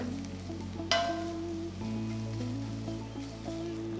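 Ground masala paste sizzling as it is sautéed in a pan for Kerala chicken mappas, a steady close frying hiss with a sharp clink near the start and stirring scrapes.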